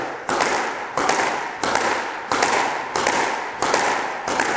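Squash ball struck repeatedly with a racket in a steady rhythm of sharp, loud hits about every two-thirds of a second, each with a short echoing court decay.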